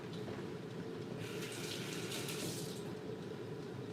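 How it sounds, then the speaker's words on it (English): Tap water runs steadily into a sink for a hand rinse during home cooking of dry fish, a continuous close splashing hiss that swells briefly in the middle, with no talking. "let me rinse my hand"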